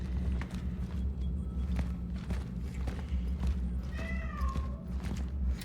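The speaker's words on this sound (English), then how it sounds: "Oh, the cat's in there." A cat meows in the video game Cronos: The New Dawn, a short rising and falling cry heard once near the end over a constant low droning ambience and faint scattered footstep-like thuds.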